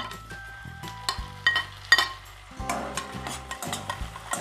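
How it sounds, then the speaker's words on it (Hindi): Tomatoes tossed onto lightly cooked onions in a pan for a paneer curry, a soft continuous sizzle under repeated scraping and stirring strokes and faint utensil clinks, close up and fairly quiet, without speech. "हमारी प्याज हल्की सी पक गई है तो इसी समय अपना टमाटर डाल देंगे"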